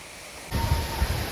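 Changey Falls waterfall throwing heavy spray, a sudden burst of loud, close, rushing water noise that roars steadily after a quieter start.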